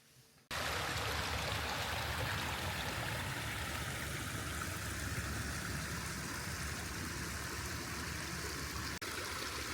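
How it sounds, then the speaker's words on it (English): Water swishes around a DJI Osmo Action 5 Pro action camera in a Telesin waterproof housing, a loud continuous rushing wash that starts abruptly after a brief quiet moment and holds steady, with no talking. "let's get the Action 5 Pro in the external housing submerged in the still water. We'll swish it around in there"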